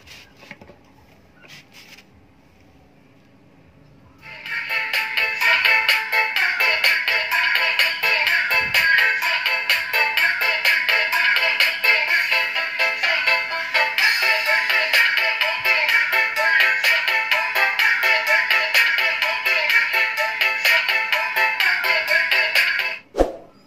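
Two horn tweeter speakers, one of them a 2-inch unit, sound a steady, bright, buzzy test tone that starts after a few quiet seconds and holds loud and unbroken for nearly twenty seconds before cutting off.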